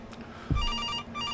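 A telephone rings in the horror video game September 7th. Repeated electronic ring tones sound over a dark ambient game soundscape, with a low thud partway through.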